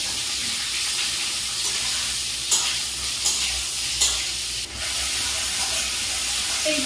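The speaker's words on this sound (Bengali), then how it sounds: "আর এই তো আমুলের কিউব পনিরগুলি এবার ভেজে নিচ্ছি" Amul paneer cubes fry in a pan, a dense continuous sizzle close up with a few sharp clinks and scrapes of a utensil partway through.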